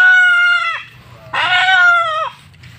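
A chicken gives two loud, close, drawn-out calls, each holding steady then dropping in pitch at the end, over a low background hum.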